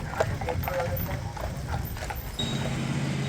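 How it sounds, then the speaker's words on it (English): Horse hooves clip-clop steadily along a street on Mackinac Island, pulling a carriage, under a constant outdoor background. "everything here is done by horse and carriage"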